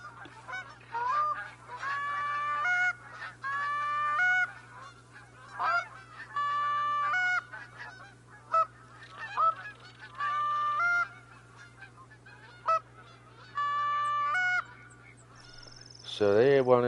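Repeated goose honks in the Call of the Wild hunting game, a series of loud, harmonic calls in irregular bursts over a steady low hum, as a flock passes close overhead.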